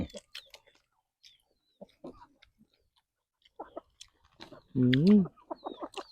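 Chickens cluck and peck in scattered short bursts, with one louder, drawn-out squawk near the middle and quiet clicks and pauses between calls, fairly close and without talk.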